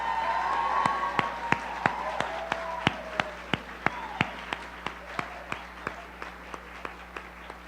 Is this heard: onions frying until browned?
no